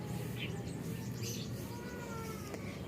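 Racing pigeons kept in a loft in Sto. Tomas, Batangas, coo and murmur softly over a steady background hum, with faint scattered chirps and no clear talk.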